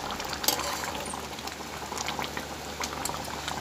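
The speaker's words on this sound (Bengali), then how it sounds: "কীভাবে করছে কী সুন্দর টকবক টকবক করছে" Curry gravy boils in a pot with a steady, dense bubbling and popping, close and moderately loud, continuing without pause and with no voices.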